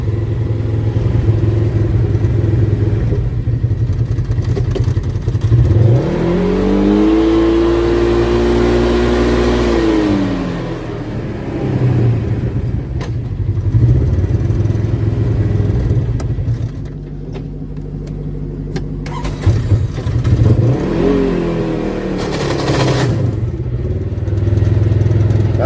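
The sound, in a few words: vehicle engine revving while trying to move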